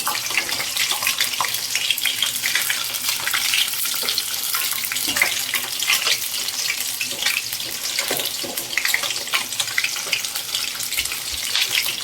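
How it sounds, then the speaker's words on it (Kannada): Ivy gourd frying in oil in a pan: a steady, dense crackling sizzle that carries on throughout, close and fairly loud, with no talk. "ನೋಡಿ, ಎಣ್ಣೆ ಚೆನ್ನಾಗಿ ಫ್ರೈ ಮಾಡ್ಕೋಬೇಕು."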